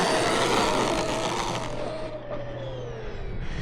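A Traxxas Wide Maxx RC truck runs close by with a whining electric motor that rises and then falls as it drives and pulls a wheelie, loud and alone over a steady background rumble.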